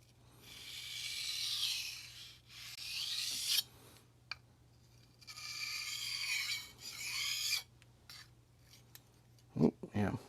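A knife blade is drawn across a 1000 grit sharpening stone to remove the burr, making close, quiet gritty rasping strokes in two longer passes with short pauses, followed by a couple of faint knocks.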